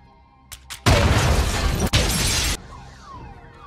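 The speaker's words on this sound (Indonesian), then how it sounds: "kawanan perampok ini membuat ledakan di dalam bank" Film explosion set off by robbers inside a bank: a few sharp knocks, then a loud roaring blast with crashing debris lasting nearly two seconds, briefly broken, then fading into a thin ringing tail.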